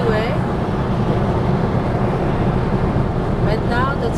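Car cruising on a California freeway at early morning, a steady broad roar of tyres, wind and engine, continuous and close without pauses.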